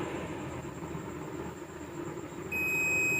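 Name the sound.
digital multimeter beeping during continuity test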